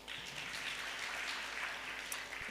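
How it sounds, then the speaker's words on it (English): An audience at Uganda Innovation Week 2022 claps together in a steady, even patter of many hands, heard from a distance and fairly faint throughout. "Can we please give them a round of applause?"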